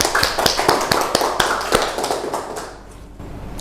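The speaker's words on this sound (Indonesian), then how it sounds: "Tepuk tangan untuk Mas Fendi." Scattered applause from a small class honouring a student: a dozen or so sharp, separate hand claps in an uneven rhythm, fairly close, thinning out and fading to near silence by the end.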